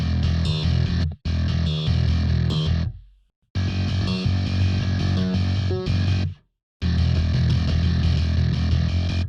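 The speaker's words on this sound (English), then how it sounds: "I use Solemn Tones Loki bass on this preset that I made called Heavy Boy" Programmed Solemn Tones Loki bass with a self-made Heavy Boy preset plays a heavy, distorted, chugging riff on its own, loud and dense, in bursts broken by two short silent gaps.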